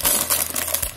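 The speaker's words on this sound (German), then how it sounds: "Hier haben wir noch eine Tüte." Close, loud crinkling of a plastic bag holding Lego pieces from a Harry Potter Expecto Patronum set 75945, a short burst of rustles and crackles.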